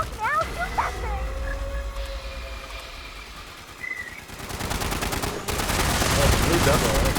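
Video game gunfire aimed at a large hungry creature, rapid dense automatic fire building loud in the second half after quieter game sounds and a brief voice.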